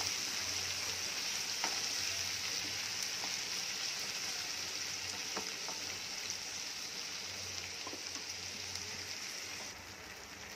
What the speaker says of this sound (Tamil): தக்காளி வெங்காயம் எல்லாம் நல்லா வதங்கட்டும்.